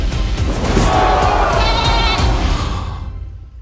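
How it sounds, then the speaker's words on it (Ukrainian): A goat, caged as a courtroom suspect in a Ukrainian-dubbed comedy film, lets out one long, loud, wavering bleat up close that rises and then fades out over a few seconds, with no talking over it. "Ви найняли мене захищати козу?"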